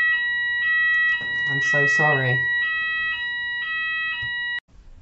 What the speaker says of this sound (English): This alarm seems to be going off quite a lot.